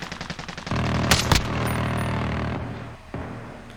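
Rapid gunfire from Call of Duty: Warzone, where a player fires on a Juggernaut: a dense, loud burst of automatic shots with sharp individual cracks layered over it, fading toward the end and followed by one more shot.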